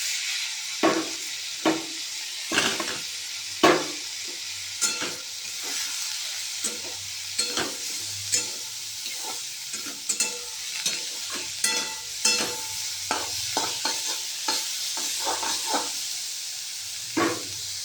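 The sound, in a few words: potato and bottle gourd peel frying with onion, stirred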